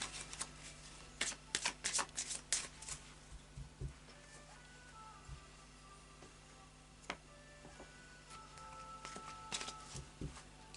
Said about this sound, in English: I'll just do a final shuffle now of the Oracle of Visions